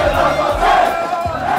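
A crowd of football fans in Grenoble roaring and chanting for France, a loud, dense wall of massed voices with rhythmic shouted swells.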